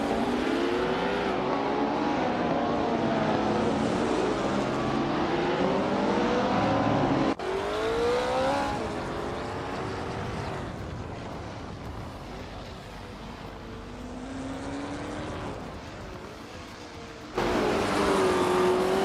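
A 1966 McLaren M1B vintage ultralight race car in a racing video game, engine revving and shifting through gears with rising and falling pitch, loud and close, the drone dipping and then surging again.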